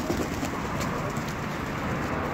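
Pigeons coo steadily close by in a Mardin-breed and tumbler pigeon loft, a soft continuous murmur of low calls with no talking.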